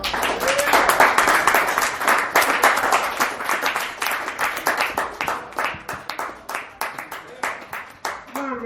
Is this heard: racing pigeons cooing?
no